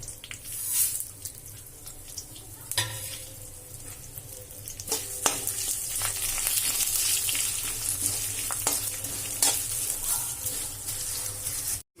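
Curry leaves with cumin, poppy seeds, sesame, fenugreek and asafoetida sizzling in hot oil for chutney powder, a steady close frying hiss with occasional pops and crackles and some light stirring.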